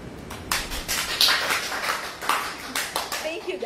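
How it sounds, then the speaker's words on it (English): An audience claps and applauds at a talk-show taping, a bright, dense patter of hands that rises and falls over a few seconds while a voice speaks over it. "thank you for the claps and round of applause"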